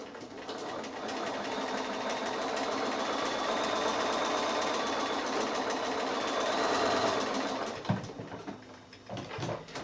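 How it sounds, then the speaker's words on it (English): A sewing machine stitches a quilt block, joining dapple pieces an inch from the edge: a close, steady mechanical whir runs for most of the time, then stops, followed by a few soft handling clicks and bumps. "So again, I'm sewing, it's 1 inch down from the edge"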